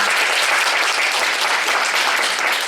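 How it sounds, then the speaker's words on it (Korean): Audience in an arts hall at a year-end charity celebration bursts into warm applause, a loud, continuous roar of many hands clapping without a break. "사랑의 일기 선배님들을 위해 다시 한번 뜨거운 박수 부탁드리겠습니다"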